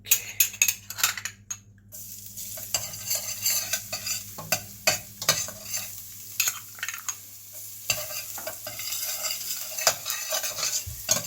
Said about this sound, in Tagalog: Lalagyan ng konting mantika. Pag uminit na, ilalagay po natin yung ating garlic.